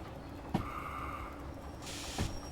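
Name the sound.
train windshield wipers in video game Derail Valley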